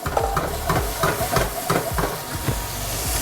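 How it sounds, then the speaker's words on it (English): Chopped onion, garlic and fennel sizzle and crackle in hot oil nearby, with stirring scrapes and irregular popping throughout. "Beautiful sizzle."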